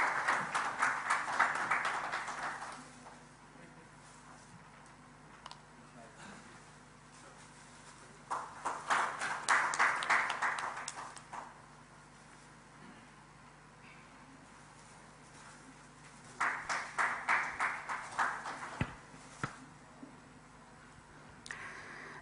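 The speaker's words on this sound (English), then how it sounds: "A round of applause, please." Applause from a summit audience rises in three separate bursts of a few seconds each, with quiet room tone between them.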